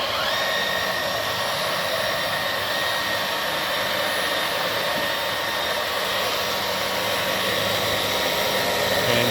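Dyson V15 Detect cordless vacuum running with its motorized hair screw tool, a loud, steady high-pitched whine and airflow roar that holds evenly throughout with no talking.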